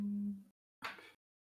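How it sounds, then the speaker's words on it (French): A phone ringtone sounds briefly as two short electronic tone bursts separated by a gap, fairly faint, before it is switched off. "Ah, un téléphone."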